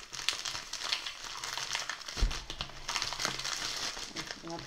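Crinkly plastic wrap on a tarot deck package being opened by hand, a steady run of close, loud crackling and crumpling with a heavier crunch midway and no talking.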